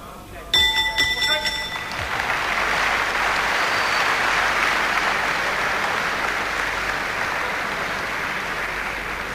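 A boxing ring bell sounds at the end of a round, a rapid series of bright metallic clangs lasting about a second, then a roaring crowd and a commentator's voice fill the rest.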